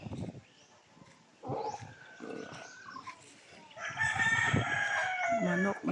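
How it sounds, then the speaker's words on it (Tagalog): A rooster crows on a farm, with a loud, drawn-out cock-a-doodle-doo rising near the end after quieter rustling and scattered background noise. "Manok, manok."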